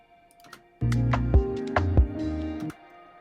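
A short hi-hat fill of rapid, small ticking hits in a lo-fi beat runs over a steady sustained musical tone for about two seconds, closely miked and fairly quiet.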